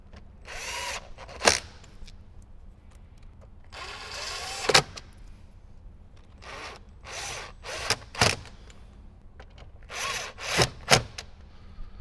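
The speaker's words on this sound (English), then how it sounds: "So let's go ahead and just get those screws in." A power driver runs side panel screws into a Jeep JL Wrangler in short separate bursts, with quieter handling and rattling between them.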